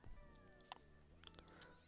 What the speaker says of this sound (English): I just hear a cat mewing?